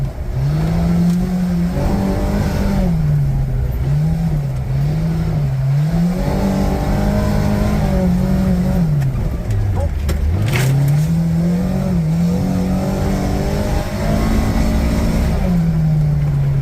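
A Kawasaki Ridge UTV engine revs hard on a muddy track, its loud, close drone climbing and dipping in pitch through repeated throttle swells, with a voice faintly audible beneath.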